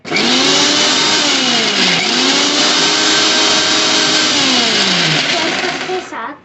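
An electric mixer grinder blending Oreo cake batter roars at full volume with a droning, wavering pitch that dips and recovers a few times, then cuts off near the end.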